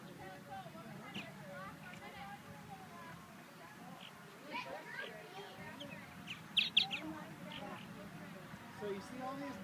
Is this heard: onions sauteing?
no